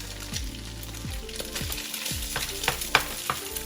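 Rice sizzles and fries loudly in a pan over high heat, with a steady crackling hiss broken by several scraping stirs and a few sharper pops toward the end.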